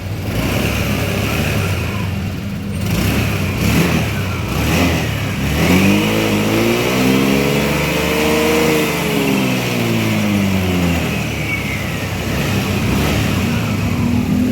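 Honda Vario 125 scooter with a whining final drive, revved up and let back down once in a rising and falling swell, a high whine riding over the engine, close up in a workshop.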